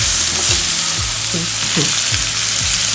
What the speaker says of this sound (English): Stir it well up and down at least twice, thrice.